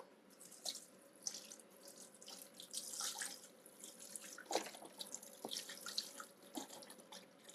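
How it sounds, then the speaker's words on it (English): Water runs from a faucet into a pot of smoked turkey wings and chicken broth, a steady splashing stream with light drips and clinks, fairly quiet and close, with no talk. "I'm going to add a little bit more water to this because it didn't cover these big old smoked turkeys."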